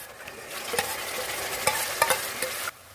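Coconut and cooked chana dal being stirred in a pan for sweet kozhukattai filling, with a steady soft sizzle and scraping spoon strokes, several sharper clacks toward the end, then a sudden drop to quiet.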